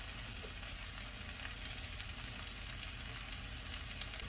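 Mushrooms fry in a pan with chile and onion, giving a continuous faint sizzle with soft crackling throughout and no voices.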